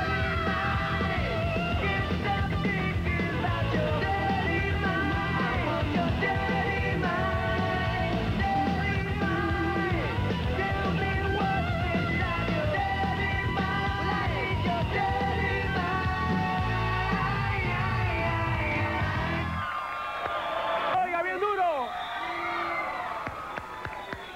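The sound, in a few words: girl screaming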